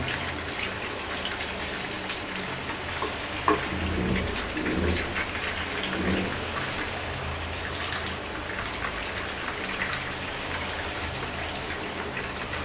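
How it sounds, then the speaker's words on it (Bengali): Chicken pieces frying to light brown in hot oil, a steady dense crackle and spatter close by that runs on without pause, with no talk over it. "সবগুলা চিকেনের পিসকে আমি এরকম হালকা বাদামি করে ভেজে উঠাই নেব"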